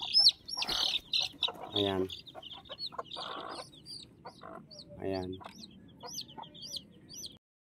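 A hen clucks in short bursts amid chirpy fowl calls, while someone speaks briefly nearby.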